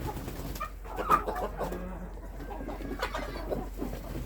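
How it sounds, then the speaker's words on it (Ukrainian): Two young hens eat among mixed backyard chickens in winter, giving soft clucks and brief chirps. Quieter cooing murmurs sit over a low steady background hum. "Це тут їдять ось дві молоденькі курочки."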